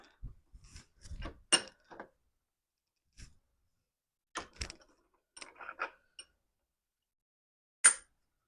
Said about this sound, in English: use a bigger socket over one end, smaller socket on the other, and it should push it